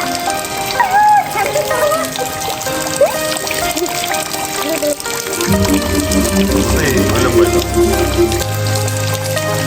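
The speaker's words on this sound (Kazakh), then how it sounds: "Қаяқтан ағып жатыр екен бұл су?" Rainwater flows down a mountainside near a cave, a continuous pouring and trickling rush. People talk over it, and the flow grows into a louder, deeper roar partway through.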